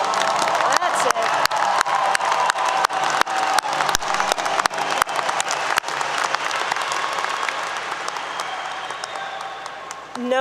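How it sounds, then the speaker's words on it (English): Graduates and guests at a 2022 commencement ceremony clap together in a large hall, a broad wash of applause with a few sharp nearby claps that thins out over the last seconds, a few voices mixed in. "Give yourselves a well-deserved round of applause."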